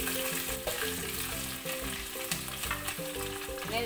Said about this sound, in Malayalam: ഉള്ളി ഒന്ന് മൂത്ത് വരുമ്പോൾ നമുക്ക് കുറച്ച് വേപ്പില ഇട്ടിട്ട് ഇളക്കി കൊടുക്കാം